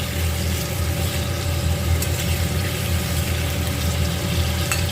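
Potato french fries deep-frying in hot oil, some coated with cornflour, give a steady, close, full sizzle with a constant bubbling hiss and faint crackles throughout, with no talking.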